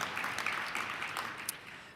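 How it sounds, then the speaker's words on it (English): Applause from a conference audience at a financial policy talk, a steady wash of clapping sustained through the whole stretch at moderate, slightly distant level, with no voices over it. "Also worth clapping for"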